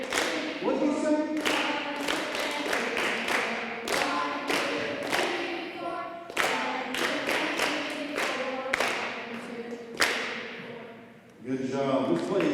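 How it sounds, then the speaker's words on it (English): Sixth grade band students clap a rhythm in unison at a school holiday concert, making sharp, evenly spaced group claps in a steady pattern, with a voice counting and talking alongside. "We're going to do some clapping and counting"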